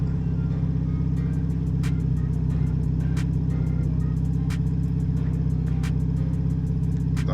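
A 98 Turbo Integra engine idling steadily and loudly up close, a dense low rumble with faint periodic ticking on top, no voices.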